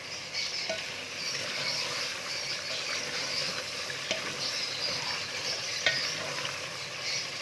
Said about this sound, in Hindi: अच्छी तरह हमने इसे भूनना है।